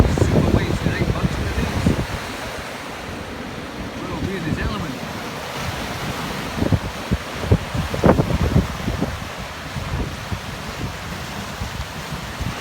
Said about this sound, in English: Super waves today, folks.